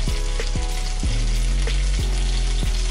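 Bread sizzles steadily in a hot pan, a dense crackling hiss broken by a few knocks and scrapes against the pan.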